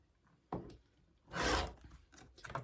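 Fabric strips from a jelly roll being cut for a quilt block give a brief sharp scrape, then a longer, louder rasping cut and a few softer scrapes after it, up close with no talking.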